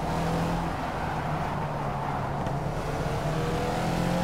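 Race car engine in Project CARS holding a steady, loud drone under power as it exits a corner, continuous with no talk, the pitch rising only slightly.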